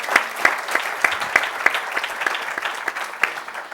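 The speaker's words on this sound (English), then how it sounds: "So let's applaud." An audience claps at an evening literary lecture event, with steady applause carrying some sharper, closer individual claps throughout and no speech on top.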